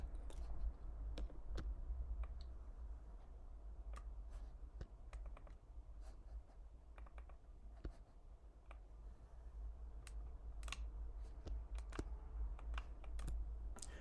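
Typing on a Mac computer keyboard, a steady run of quick, light key clicks with irregular rhythm over a low constant hum, close and fairly quiet, with no talking.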